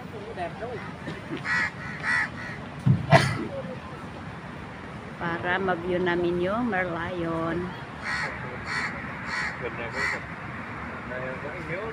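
Loud cawing birds call repeatedly in shady trees at Marina Bay, Singapore, over steady outdoor noise while a person talks through the middle stretch.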